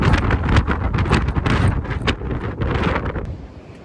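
Strong wind buffets the microphone at the rocky Stony Man summit in Shenandoah National Park, a loud, continuous broadband roar with gusty swells that eases near the end.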